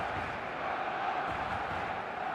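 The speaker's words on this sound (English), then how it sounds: "This crowd doesn't do ordinary, and we should be in for something very special." A stadium crowd in the eFootball 2026 video game roars in a steady, dense wash of cheering that stays fairly quiet and unbroken throughout, with no clear voices standing out.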